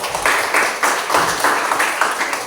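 Classroom students clap together for a group after its score is read out, a short burst of fairly loud, slightly rhythmic applause with regular pulses from many hands close by.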